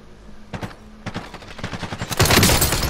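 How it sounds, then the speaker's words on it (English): Distant rifle fire in a battle royale video game: a few spaced single shots give way to a rapid, dense volley that swells louder toward the end, with no talking. "someone's shooting me again from across the way"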